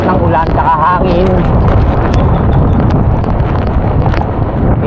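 Heavy rain and strong wind pound during a storm near Calaca in a constant, loud, close roar with buffeting wind noise, while a person speaks briefly at the start.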